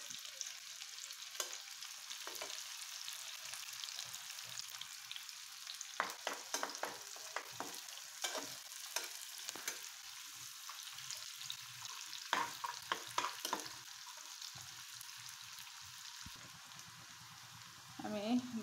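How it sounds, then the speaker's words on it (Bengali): Whole spices and other ingredients frying in a pan for a mangsho paturi dish, a steady close sizzle broken by repeated scraping strokes of stirring, with no talk. "সুন্দর করে এগুলো এখন আমি ভেজে নেব।"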